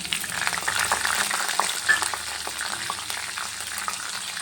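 Green chillies and mustard seeds frying in hot oil for a Rayalaseema-style susla, a close, steady sizzle with light crackles and a brief stirring knock, no voices.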